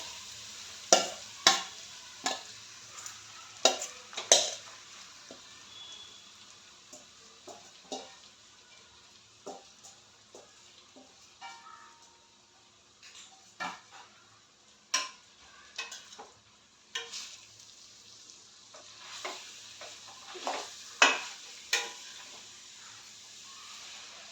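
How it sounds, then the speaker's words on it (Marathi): Grated carrot sizzling in hot ghee while being stirred, a soft steady frying hiss broken by frequent sharp scrapes and clinks of a spoon against the pan, moderately quiet and close, with no talking. "आता आपण तुपामध्ये टाकूया किसलेला गाजर, त्याला आपण छान असं फ्राय करून घेऊया।"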